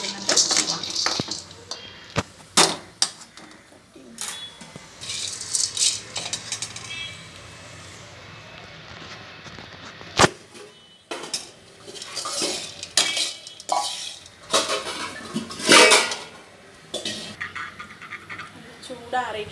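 Roasted chickpeas being lightly heated in a pan, scraped and stirred with a metal spoon in irregular clattering bursts, with occasional louder knocks against the pan and talking in the background.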